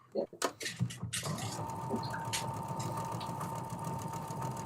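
A sewing machine stitches fabric seams, starting with a few short bursts and then running in one long continuous whir, while people talk nearby.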